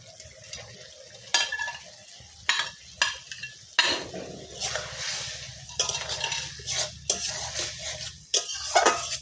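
Small kachki fish are added to spiced masala in a pan, and the close, repeated stirring scrapes and metal clinks come over a steady sizzle of frying.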